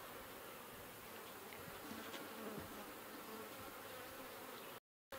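Honey bees buzz steadily at an outdoor beehive, a dense continuous hum from many insects close by, with no voices.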